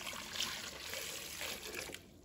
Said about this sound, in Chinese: 把它放入锅中， 倒入清水